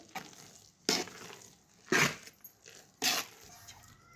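Mixed-lentil batter for sandge being stirred and mixed by hand, three distinct loud squelchy slaps spaced about a second apart with softer wet stirring between them, close and without talk.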